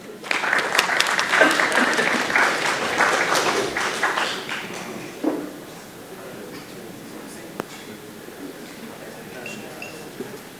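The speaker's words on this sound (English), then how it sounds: "So let's give them a round of applause." A conference audience applauds at a generative AI tech talk with AWS presenters: dense, steady clapping for about five seconds that then thins to a few scattered claps and faint room noise.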